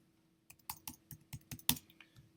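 Computer keyboard typing, a quick run of about ten crisp, close key clicks in an uneven rhythm, one a little louder, in an otherwise quiet room.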